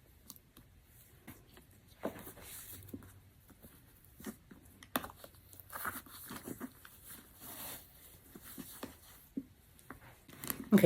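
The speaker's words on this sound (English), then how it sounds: "Let's go ahead and take the plastic off." Plastic wrapping being pulled off a Hermès bag, irregular crinkles and rustles close by, quiet at first then busier, with scattered crackling bursts and no talk.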